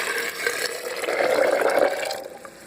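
Water pours steadily into a blender holding dried ingredients for plant milk, a rushing, splashing flow for a couple of seconds that tapers off at the end.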